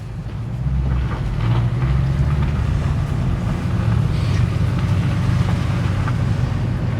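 A Ford Crown Victoria with a new clutch cruises down the road. A steady low engine and road rumble carries a thumping vibration and some wind buffeting, loud and continuous with no talking.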